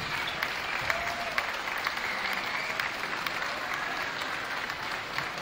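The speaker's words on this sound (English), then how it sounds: "Give them a round of applause, guys." A high school basketball crowd in a gym applauds two senior players with continuous, moderately distant clapping. A few sharper claps stand out above the even, echoing wash.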